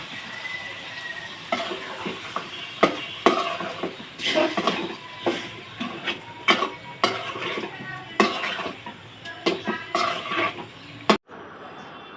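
Meat stirred and fried with spices in a metal pot, with a run of repeated scraping and knocking strokes from a utensil against the pot and a faint sizzle beneath, ending abruptly.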